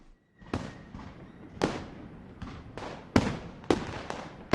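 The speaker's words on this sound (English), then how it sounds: "Fireworks crackled and guns banged" Fireworks go off in a series of about six sharp bursts, each a loud crack with a crackling fizzing tail, spaced irregularly over a few seconds with no voices.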